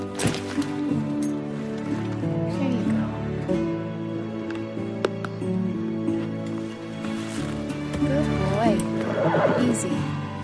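A horse neighs and whinnies repeatedly at close range while shifting its hooves, with someone speaking softly and soothingly to it throughout.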